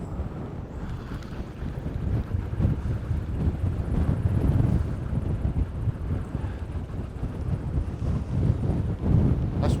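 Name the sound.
strong wind blowing on a riverbank while barbel fishing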